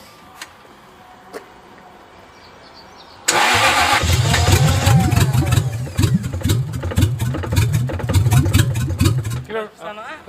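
A Jaguar car engine cranks and fires abruptly after quiet, then settles into a loud, steady run with rough rhythmic pulsing for several seconds before cutting off near the end.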